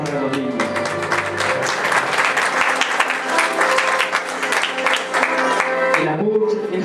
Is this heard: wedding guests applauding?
yes